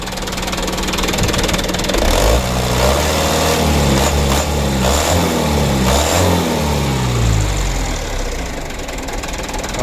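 A new car's engine revs up and down several times, its pitch rising and falling, loud and close over a rough, stuttering running rumble.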